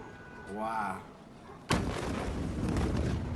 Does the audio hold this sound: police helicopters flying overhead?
no